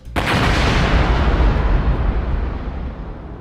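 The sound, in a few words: explosion sinking the Rainbow Warrior boat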